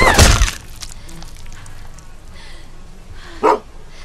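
A dog in The Walking Dead: Season 2 gives a sharp bark at the start, with a second shorter bark or yelp later amid quiet background ambience.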